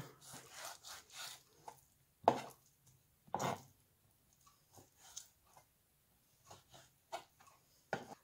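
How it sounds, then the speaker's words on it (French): A knife dices veal sweetbread into small cubes on a cutting board for a land-and-sea pâté en croûte: quiet, irregular cutting strokes with a few sharper taps against the board, spaced out and alone with no talk. "Je détaille le riz de veau en petits cubes."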